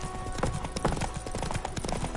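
Roach the horse trots along in The Witcher video game, steady clip-clopping hooves close and continuous with a faint voice now and then.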